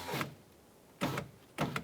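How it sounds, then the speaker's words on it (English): Power window glass on a 2001-2005 Honda Civic driver door, with the door panel off, being raised by its motor in three short whirring bursts separated by pauses. "With the key in the on position, we're going to go ahead and raise our glass up."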